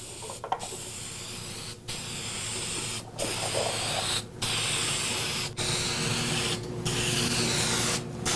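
Spray gun laying finish coat passes onto a memorial stone, a close steady hiss in about six long bursts separated by short pauses.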